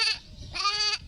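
A goat bleats twice in quick succession, two wavering, nasal cries with a short gap between them, close by and loud, with no talk over them; the bleats may be a human voice imitating a goat.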